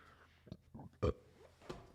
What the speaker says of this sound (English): I burped into the mic.